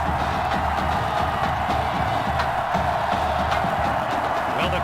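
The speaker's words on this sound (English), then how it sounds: "the crowd is loud and on its feet" An arena crowd at a football game roars continuously at a steady, loud level, a dense wall of cheering voices with no distinct announcer speech above it.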